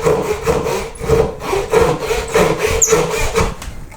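A corner is cut away from a hand-carved wooden koi carp body with steady, rhythmic rasping strokes, loud and close, repeating about every half second without any voices.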